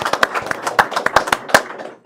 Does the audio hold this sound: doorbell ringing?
no